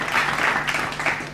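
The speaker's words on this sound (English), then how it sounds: "A round of applause again." Audience at a secondary school debate competition applauds, a brief burst of dense clapping with a murmur of voices underneath.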